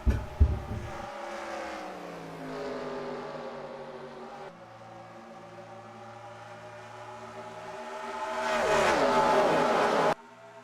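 Race car engines in the NASCAR Racing 2003 sim at Michigan, an ARCA race with a large pack of cars, drone and whine loudly, with pitch sweeps as cars pass close by, swelling near the end before cutting off abruptly.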